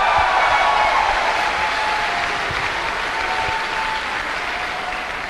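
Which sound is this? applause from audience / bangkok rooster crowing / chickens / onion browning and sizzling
applause from audience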